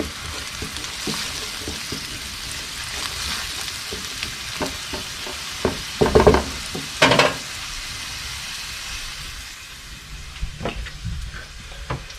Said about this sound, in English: Some more onions. Let them sweat a little bit.